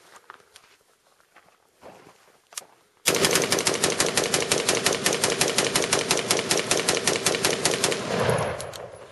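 Noveske Flaming Pig rifle fired at night with Federal XM-193 ammunition: after a few quiet moments and scattered clicks, a long rapid string of loud, evenly spaced sharp shots rings out close by, then stops abruptly.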